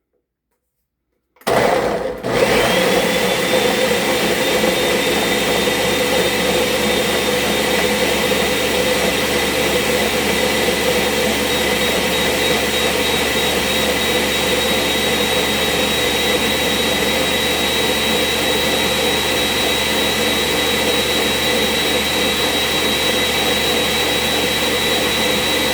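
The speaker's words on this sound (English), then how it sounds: "So now I'm going to put the cover on my Ninja, and we're going to blend this bad boy till creamy." A Ninja blender starts up abruptly and blends cashew cream with a steady, loud, high-pitched motor whine and churning roar that holds constant throughout, with no talking.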